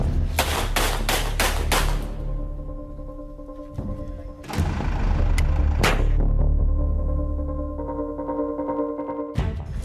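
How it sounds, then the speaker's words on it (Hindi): Celebratory gunfire from a revolver at a wedding-season gathering in Rajkot: a rapid burst of five or six loud, close shots, then two more isolated blasts, over a steady background hum. "पहले रिवॉल्वर से धड़ाधड़ दागी गोलियां"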